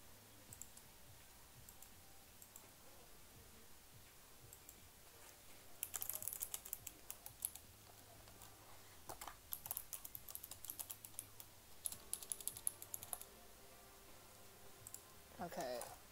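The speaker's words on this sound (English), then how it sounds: "something's wrong with my keyboard. It keeps sliding." Keys on a computer keyboard clatter in irregular bursts of fast typing, quiet and close, with gaps of near silence between the flurries.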